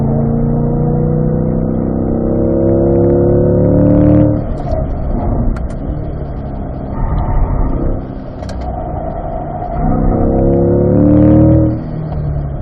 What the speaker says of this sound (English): Off the brakes, coasting, and accelerate out.